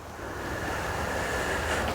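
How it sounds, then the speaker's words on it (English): Wind blows steadily with a broad, rushing roar and low buffeting on the microphone, continuous and fairly loud with no voices, on a golf course. "it is windy down here"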